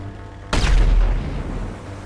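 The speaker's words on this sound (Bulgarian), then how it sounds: "И се взривих." A sudden loud explosion in GTA Online during a Diamond Casino heist, one sharp blast that booms and rolls off into a decaying rumble, with no talk over it.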